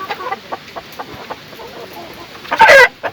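Chickens clucking nearby in short, scattered calls, with a louder burst of squawking near the end.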